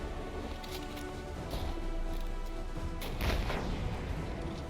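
An RPG rocket launcher fires during a boss fight in the space game Beyond Cosmo, with a heavy boom rising over a constant dense rumble of battle noise and scattered crashes.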